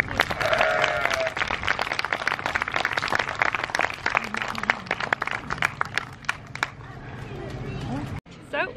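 Sheep bleating at a sheep shearing show at a fibre festival, several animals calling under busy crowd chatter and people talking nearby.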